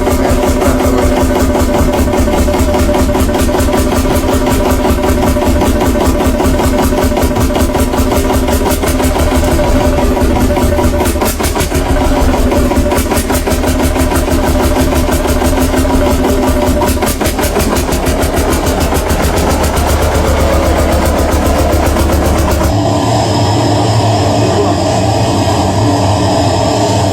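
A tractor engine idles loudly and steadily nearby with a constant low diesel rumble and no talk, then cuts off abruptly near the end.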